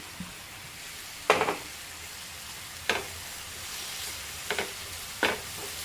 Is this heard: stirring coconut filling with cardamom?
yes